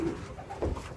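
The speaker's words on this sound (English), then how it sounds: "A very nice pigeon in the hand." A racing pigeon, a well-balanced cock bird held in the hand, gives a brief low coo, soft and close, lasting about a second.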